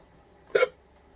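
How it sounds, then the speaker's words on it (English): A single short, sharp hiccup, close and clear, standing alone against a quiet background. "hiccups."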